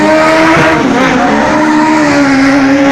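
A Hyundai i20 Coupe race car built for the one-make Hyundai Racing Trophy roars loudly and steadily at close range, its engine droning throughout while tires squeal across the middle.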